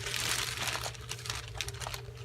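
Plastic bags holding parts of a Revell 1:32 Panavia Tornado Mk. 1 model kit crinkle and rustle as they are handled up close, a steady run of dense crackling with small sharp bursts throughout.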